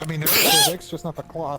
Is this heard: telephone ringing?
no